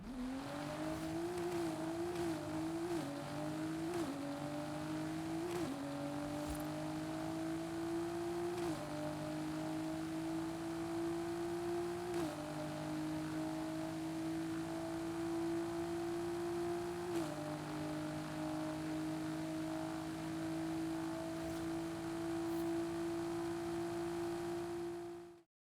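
A car in Forza Horizon 5 with a 10-speed transmission pulls hard from a launch, its engine note climbing and dropping through quick upshifts early on, then longer rising pulls between gear changes, loud and continuous.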